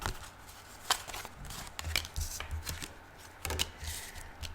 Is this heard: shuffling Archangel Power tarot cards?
yes